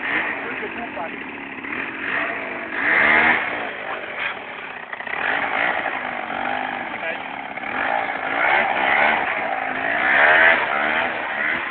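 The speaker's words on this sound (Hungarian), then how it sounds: "Ez csak egy kis motor." A small motorbike engine runs steadily nearby, its buzzing drone rising and falling slightly in pitch throughout while people talk over it.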